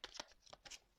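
Tarot cards being handled and drawn for a reading, a few soft quick bursts of card slides and flicks close by, no voices.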